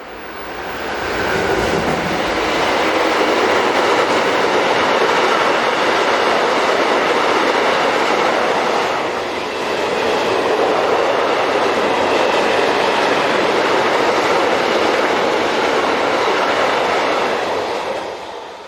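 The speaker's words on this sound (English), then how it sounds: "DB Railion Class 185s, numbers 296 and 192, head a typical northbound working through Pappenheim" A pair of DB Railion Class 185 electric locomotives heads a northbound freight through Pappenheim, a loud, sustained rumble and rolling wheel noise that holds steady for the whole stretch, with a brief dip midway, and no voices.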